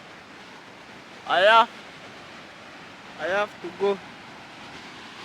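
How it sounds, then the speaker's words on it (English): Rushing water from a waterfall forms a steady, even wash of noise heard from a viewpoint, with someone speaking briefly over it. "There is the waterfall"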